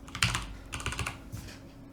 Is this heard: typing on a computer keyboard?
yes